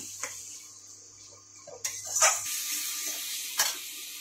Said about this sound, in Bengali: এখানে সবগুলোকে একসাথে ভালো করে কষিয়ে নিয়ে